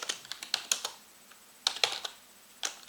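Fingers tapping out a short text prompt on a computer keyboard, close and crisp, in two quick bursts of keystrokes separated by a pause, then a single final tap, with no talking.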